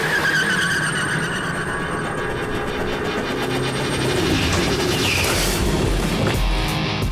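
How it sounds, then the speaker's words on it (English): A V8 supercar engine in the pit lane, a loud, close, continuous roar with harsh broadband rasp and shifting revs, steady and overpowering throughout without talk. "This V8 engine was extremely loud and extremely confronting."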